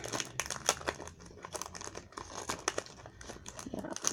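A plastic pack of neon alphabet stickers is crinkled and pulled open close by: quiet, irregular crackles and sharp crinkling snaps come in quick clusters with short pauses between them.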